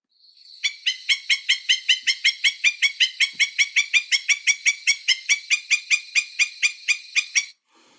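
A black-necked stilt, an agitated shorebird, gives a persistent run of about twenty sharp, evenly spaced yapping calls, loud and close, then stops abruptly.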